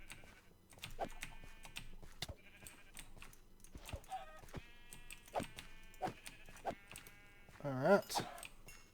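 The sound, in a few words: sheep bleating in Minecraft, video game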